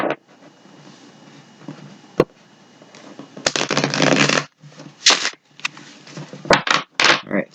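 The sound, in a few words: shuffling tarot cards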